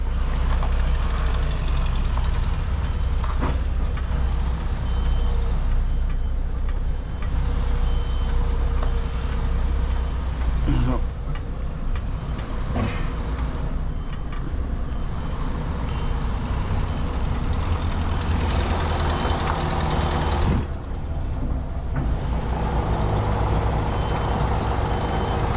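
A truck towing a trailer pulls out along a narrow Welsh lane, its engine droning steadily and loudly throughout, with reversing beeps and a brief air-brake hiss mixed in.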